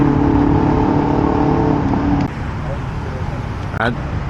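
A car engine hums steadily nearby on a street in Thailand at night, then drops off to a lower rumble of road noise with a brief squeal near the end.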